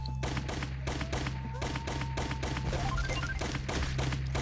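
Rapid, rhythmic shots repeat without a break in the retro action game Operation Hardcore, with steady loud firing over a droning background of game music and effects.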